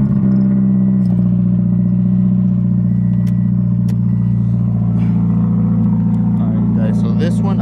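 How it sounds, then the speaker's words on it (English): A car engine idles steadily while warming up, a loud continuous low hum and rumble that holds even throughout, with someone talking over it. "I am gonna let my car warm up."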